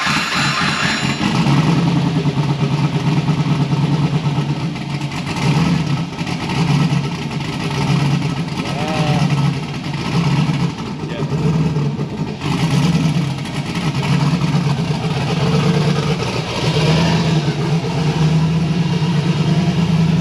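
A Nissan S13 engine revs hard up close, loud rising and falling bursts over a rough idle, with several throttle blips spread across the stretch.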